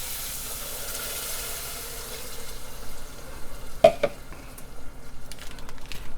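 Water poured into browned kernels in a hot pan for stuffed peppers, sizzling and hissing briefly with a sharp burst near the middle, then settling into steady bubbling and stirring noises, close and fairly quiet.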